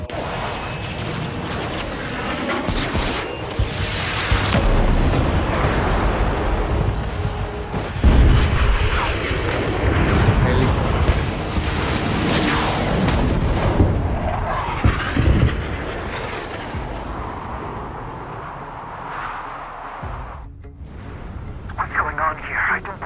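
Su-30 fighter jets in the combat flight game Ace Combat 7, with a dense, loud wash of jet roar, booms and crashing impacts running throughout, layered under frequent radio-style voices talking.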